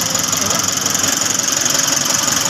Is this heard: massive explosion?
no